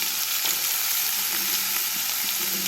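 Potatoes frying in hot refined oil with a bay leaf for ghugni, a loud, dense, continuous hiss of sizzling with faint stirring scrapes.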